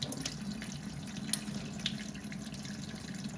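Water running steadily from a tap in a home kitchen while prawns are rinsed clean one by one, a constant moderate splash with small clinks.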